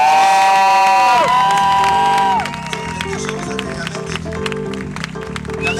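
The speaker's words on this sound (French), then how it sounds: "On l'applaudit." A crowd cheers and applauds for comedian Nicolas Gignac at a comedy festival show, loud whoops and shouts over steady clapping, with lively music fading out in the first seconds.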